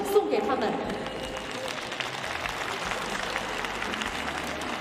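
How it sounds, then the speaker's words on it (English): Faint, distant applause for staff and volunteers at the Beijing 2022 Paralympics wheelchair curling venue, a soft steady patter of clapping under an announcer's speech. "Let's give them a round of applause."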